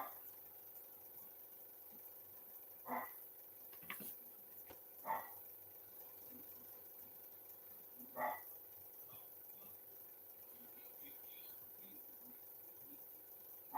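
A dog indoors gives a few short, faint barks spaced several seconds apart in an otherwise quiet room.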